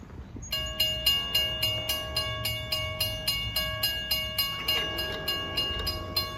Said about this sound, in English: you can hear the K5 LLA horn of engine 504 leading train 6001